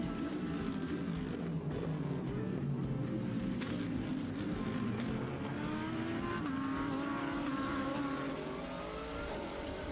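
Race cars in an ADAC race at Most running wide over the curbs, a continuous loud roar of engines with shifting revs and whining pitch sweeps as cars pass, close and steady throughout, with no voices.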